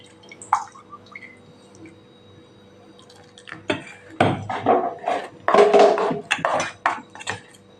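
Water splashes and trickles into a thick bottle gourd batter in a few uneven bursts, close by, with wet clinks of mixing between pours.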